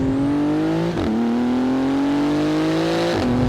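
A 2019 Porsche 911 GT2 RS with a 700-horsepower turbo engine accelerates hard. Its loud, rising engine note drops back at two quick upshifts, then climbs again.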